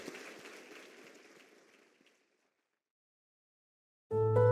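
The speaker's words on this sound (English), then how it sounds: "let's celebrate her with a round of applause" Audience clapping at the close of an Akron Roundtable talk, moderately faint and thinning steadily over two seconds until it dies away into silence.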